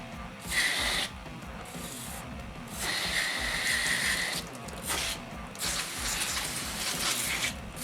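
Compressed air blowing out a 4L60e transmission pump, several sharp hissing blasts of air in short bursts, moderately faint, separated by brief pauses of quieter background.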